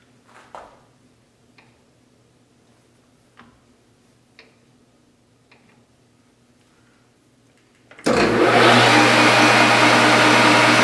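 Small model spool valve engine running at its slowest speed, a faint, sparse ticking of a few scattered clicks over a low hum, then a sudden loud, steady machine roar for the last few seconds.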